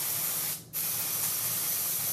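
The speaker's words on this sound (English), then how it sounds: "I have the Red by Kiss lace tinting spray" Medium brown Red by Kiss lace tinting spray hisses out of an aerosol can in a close, steady burst, broken by a short pause before spraying resumes for a second long stretch; quiet overall with no talking.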